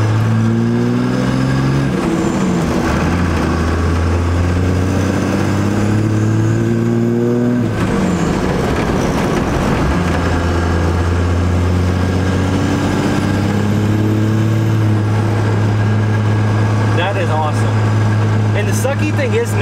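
A 12V Cummins dually pickup drives along a straight road, its diesel engine droning steadily with gear changes and rising revs, with someone talking over the engine throughout.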